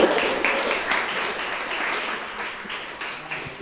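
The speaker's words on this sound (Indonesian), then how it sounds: "berikan aplaus itu" Applause from a classroom audience during an innovative problem-based learning lesson, a steady dense patter of many hands clapping that runs through the whole span and holds at a fairly even level.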